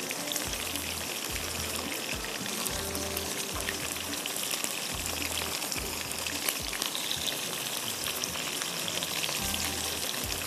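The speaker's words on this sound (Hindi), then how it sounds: "बस अब ये हो रहा है फ्राई" Food fries in a pan while making garlic sticky rice, a dense, even crackling sizzle like steady rain under a repeating low thump, close and unbroken for the whole stretch, no talk.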